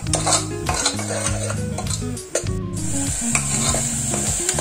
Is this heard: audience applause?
no